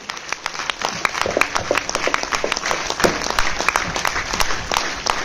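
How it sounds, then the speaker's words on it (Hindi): An audience at a team function in Wardha breaks into steady, vigorous applause, many hands clapping densely and evenly throughout, fairly close and loud, with no talking over it. "एक बार जोरदार तालियां होनी चाहिए, जोरदार तालियां"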